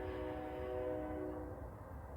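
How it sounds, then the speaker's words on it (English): A steady, low sustained train horn blaring over a rumbling background near the Stonehenge War Memorial in south central Washington State, fading out toward the end. "The train horns sound."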